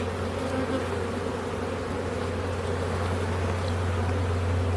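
Honey bees buzz in an opened hive, a dense, steady, close drone that holds unbroken and loud throughout, with no voices over it.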